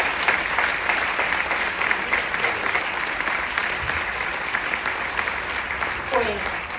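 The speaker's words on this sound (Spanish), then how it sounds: "un aplauso fuerte para Chelo" An audience claps loudly and steadily at a talk on evangelization, a dense sustained wave of applause from a large hall crowd with a faint voice near the end.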